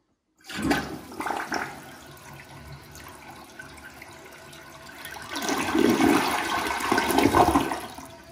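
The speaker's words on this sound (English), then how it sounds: "you could definitely see the swirling water coming out of the top channel there, and it's swirled down around the inside of the bowl" A newly installed toilet flushes with water swirling from the rim channel around the bowl: a sudden rushing surge, a long gurgling drain, then a louder swirling refill toward the end, heard up close with no talking.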